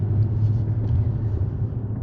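A 2020 Cadillac CT6-V runs with its exhaust in the quieter tour mode, giving a steady, low, subdued rumble heard from inside the car with no talking.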